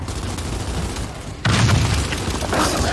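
A sudden explosion booms in the Gears 5 video game, a loud broadband blast that cuts in partway through and stays heavy for about a second over ongoing game noise, with a smaller burst near the end.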